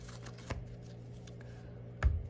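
A deck of playing cards being shuffled by hand, with faint papery riffles and a sharper card burst near the end, fairly quiet over a steady background hum.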